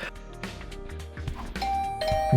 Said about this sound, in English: Didn't like the sound of that flurry of doorbell rings.